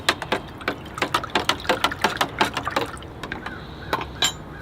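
Stirring a small dose of 20-20-20 fertilizer into about two liters of water in a container, heard as a quick series of close, bright clinks and splashy swirls in a steady rhythm, with no talking.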